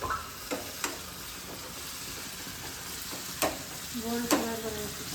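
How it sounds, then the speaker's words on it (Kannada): Tomato and coriander leaves frying in a pan for fish fry, a steady low sizzle with a few sharp clinks of a spoon stirring against the pan, no talking. "ಸ್ವಲ್ಪ ಕೊತ್ತಂಬರಿ ಸೊಪ್ಪು, ಟೊಮೊಟೊ ಮತ್ತು ಕೊತ್ತಂಬರಿ ಸೊಪ್ಪು ಹಾಕೊಂಡು ಇನ್ನೊಂದು ಸ್ವಲ್ಪ ಫ್ರೈ ಮಾಡ್ತಾಯಿದ್ದೀನಿ."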